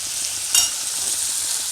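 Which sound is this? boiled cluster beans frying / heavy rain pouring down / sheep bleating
boiled cluster beans frying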